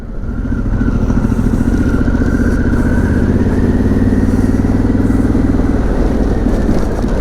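A Harley-Davidson Pan America motorcycle being ridden, its engine a loud, steady, close throbbing drone that holds an even pitch with a slight rise midway, no talking over it.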